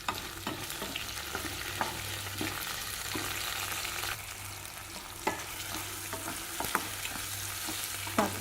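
Tomato and curry leaves fry in a pan with a continuous soft sizzle, punctuated by occasional light taps and scrapes of a spoon stirring, close and unaccompanied by voices.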